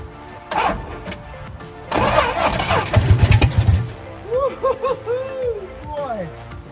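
A starter motor on an old Dodge D200 pickup, jumped with a screwdriver, whirs and cranks in a loud uneven burst, then trails off into squeaky bursts of sound near the end.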